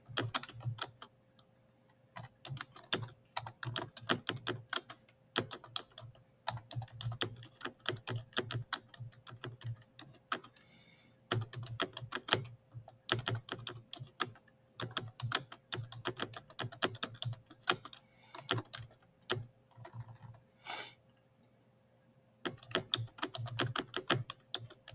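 Text being typed on a computer keyboard, producing a steady close stream of quick key clicks with short pauses between runs and a faint background hum.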